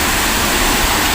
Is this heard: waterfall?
yes